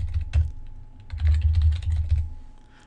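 Typing a passphrase on a computer keyboard, a quick run of close, crisp key clicks in uneven bursts with a short pause partway, over a faint steady hum and with no talking.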